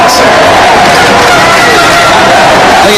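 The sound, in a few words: indoor soccer arena crowd cheering after a goal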